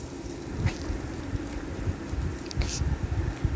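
Chopped garlic sautéing in hot cooking oil in a frying pan, a steady soft hiss with low knocks and faint clinks running throughout, fairly quiet and with no voices.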